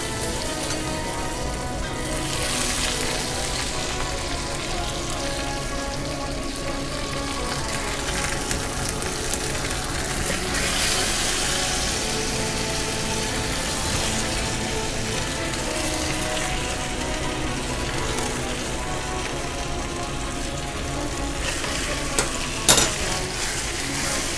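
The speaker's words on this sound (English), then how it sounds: "So now I'm getting a little bit of bubble around these hickory nuts." Hickory nuts fry in bubbling brown butter in a pan, a steady close sizzle with faint stirring scrapes throughout and a couple of sharper clinks near the end.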